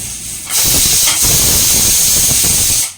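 A pressure cooker with rice inside lets off a loud, steady hiss of steam that starts abruptly, holds for over two seconds, then cuts off, close by with no voices.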